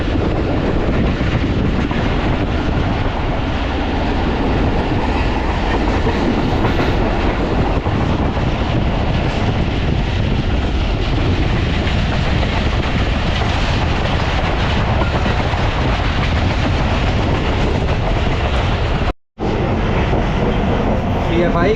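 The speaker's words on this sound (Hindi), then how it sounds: "मंडियाला रेलवे स्टेशन से थ्रू पास हुई है।" The Pakistan Express running through Mandiala railway station on the Rawalpindi to Dina line, a loud continuous rumble and rattle of carriages on track, close and steady for the whole stretch, with a brief dropout near the end.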